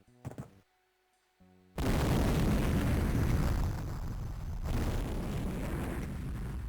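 After a brief quiet moment, a massive blast in a Duke Nukem 3D mod erupts into a loud, sustained roaring rumble that continues without letting up.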